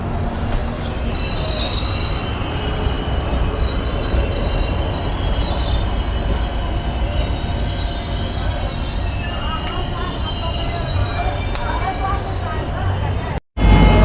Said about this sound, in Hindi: हजूर साहब नंदेड़ श्री गंगानगर एक्सप्रेस, ये हजूर साहब से आई है अभी और गंगानगर की तरफ जा रही है